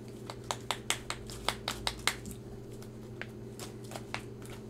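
A deck of Magic cards is riffle-shuffled close up in rapid, crisp snaps, a fast flurry of sharp flicks followed by a few slower, softer ones over a faint steady hum.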